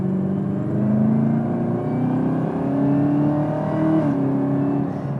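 Exhaust note of a 2018 Camaro ZL1 with a 10-speed automatic, heard from inside the cabin as a steady engine drone that rises and falls through shifts, with no talk.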